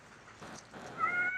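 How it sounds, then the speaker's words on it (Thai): A cat gives a short, rising meow that swells toward the end, fairly faint against a quiet background and with no talking. "แมวเหมียวทั้งหลายแมวเหมียวทั้งหลายเป็นยังไงกันบ้าง"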